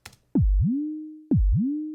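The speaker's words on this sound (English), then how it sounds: "Now we have a very lasery sounding kick drum." Two deep kick drums synthesized in Native Instruments FM8 with a pitch envelope, each with a sharp click and a fast downward pitch sweep that rises again into a long humming tail.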